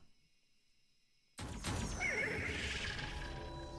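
A celestial horse in a video game gives a loud, bright neigh that bursts in suddenly after near silence, rising and falling with a whinnying trill and trailing off over a soft game background.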